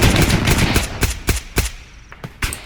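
Several bursts of general-purpose machine gun fire in Arma 3, loud and close, separate heavy reports with short gaps between them and no talking over them.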